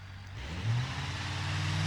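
In the BeamNG driving game, a truck engine hums steadily and then climbs in pitch as it accelerates, a moderate mid-range drone with no speech over it.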